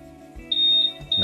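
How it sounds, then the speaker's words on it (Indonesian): Remote alarm of a Honda PCX 160 motorcycle sounding a series of electronic beep tones, a steady high tone broken into a few pulses, fairly close and loud with no talk. "Bunyi bip cepat, bunyi bip sedang, dan bunyi bip pelan."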